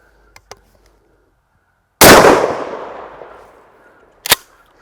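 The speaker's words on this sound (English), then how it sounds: "I'm just going to shoot into the backstop" A 12 gauge shotgun without its choke tube fires a slug into a backstop, one sharp loud outdoor blast with a ringing decay, followed by a brief metallic clack; faint clicks come before it.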